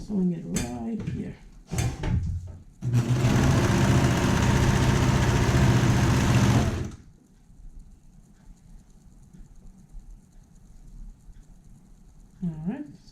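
Sewing machine stitching a neckband seam, a loud steady mechanical whir lasting about four seconds, close by, with a few handling clicks before it and quiet room noise after.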